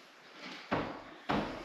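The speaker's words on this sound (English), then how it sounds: "That door's like stiff." A stiff door in an abandoned care home is forced open in two short scraping, thudding pushes, near and fairly loud, with no voices.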